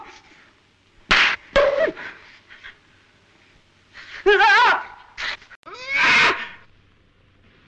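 A cartoon cat gives a few short, bright meows and yowls in bursts, loud and close, with other brief cries and noises between them and no speech over them.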